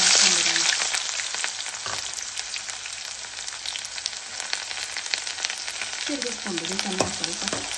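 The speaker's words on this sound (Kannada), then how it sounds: "ಎಣ್ಣೆ ಕಾದಿದೆ. ಸಾಸಿವೆ ಹಾಕೊಳ್ಳಿ." Mustard seeds and dried chillies crackle and sputter in hot oil with a loud, dense, continuous sizzle, close up, with a few stirring scrapes and faint talk near the end.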